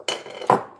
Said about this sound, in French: Donc, je mets déjà une casserole derrière.